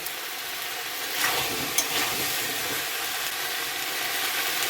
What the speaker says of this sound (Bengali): দিয়ে দেবো কেটে রাখা ডাঁটা। দিয়ে ভালো করে কষিয়ে নেব।